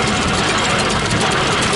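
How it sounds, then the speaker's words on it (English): A Rumley Oil Pull 25 horsepower antique tractor engine runs loud and close, a dense steady rumble with a heavy low throb throughout. "A Rumley oil pull, 25 horsepower."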